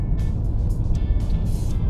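A 2019 BMW 330i drives along a road, giving a steady, close engine and tyre rumble with light whooshes of passing air and no talking.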